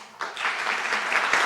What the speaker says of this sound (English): A round of applause for Rowan.